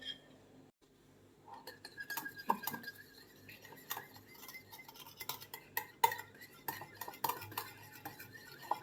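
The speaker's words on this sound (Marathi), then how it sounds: "हे सगळं मिक्स करून घ्यायचं आहे व्यवस्थित" Spoon stirring yogurt batter with salt and baking soda in a bowl, giving a steady run of close clinks and scrapes against the bowl, quiet and repeated.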